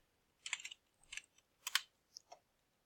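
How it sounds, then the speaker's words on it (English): Keys clack on a computer keyboard in four short, quiet bursts of typing separated by brief pauses, close and isolated in a silent room. "So I'm going to type in virtual."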